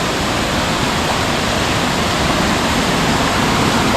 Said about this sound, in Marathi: इथून पाणी हे खाली येतंय